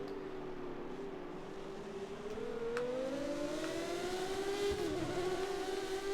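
Classic Formula 1 race car in F1 2013 at the Canadian Grand Prix, its engine whining upward in pitch as it accelerates, a smooth rising tone over a low rumble, moderately loud.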